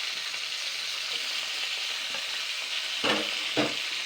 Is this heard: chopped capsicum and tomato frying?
yes